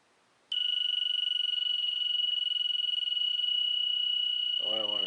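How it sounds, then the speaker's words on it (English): A piezo buzzer in a Joule ringer circuit switches on abruptly and holds a loud, steady high-pitched whine, with a voice starting briefly at the end. "how that piezo buzzer can tune the circuit just from a reflection of the sound wave"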